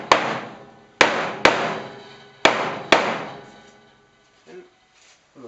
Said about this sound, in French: on peut venir frapper avec un marteau, doucement, pour être sûr de bien tout enfoncer